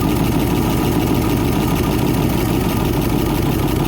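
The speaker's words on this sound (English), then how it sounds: "You hear how the engine died down?" A misfiring 1955 Ford's engine idles steadily up close, a continuous low rumbling drone with no voices.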